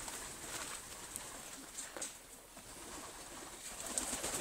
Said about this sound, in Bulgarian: Е гълъби, е фазанчета